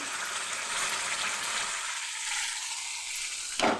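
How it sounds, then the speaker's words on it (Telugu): Masala paste with green chillies fries in hot oil for fried rice, a loud, steady close-up sizzle that carries throughout, ending with a brief metallic clink. "మసాలా ముద్ద మళ్ళీ కొంచెంసేపు వేయించుకోవాలి"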